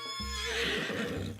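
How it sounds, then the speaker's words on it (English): Horse rearing up in the video game I Love You, Colonel Sanders!, letting out a loud, close, shrill whinny that quavers and falls away over about a second and a half. "your sudden movement surprised the horse and it rears up, kicking you directly in the face"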